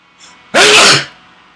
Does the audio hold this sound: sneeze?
yes